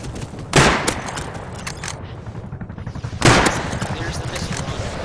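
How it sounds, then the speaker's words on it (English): An attack helicopter in the game Rust fires a missile run, two loud explosive bursts a few seconds apart with a rumbling, crackling tail, and people talk beneath it. "There's the missile run."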